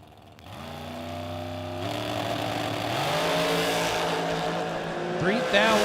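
Drag racing engines at a bracket race rev and rise through several gear steps, loud and sustained, ending in a high rising whine near the finish, with an announcer talking over them.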